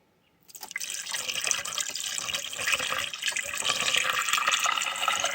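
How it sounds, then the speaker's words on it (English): Water is poured into the washer fluid system of a Mitsubishi Delica that has a washer fluid leak, a steady close splashing and trickling that starts abruptly and keeps running for several seconds. "Let's pour the water and see what will happen."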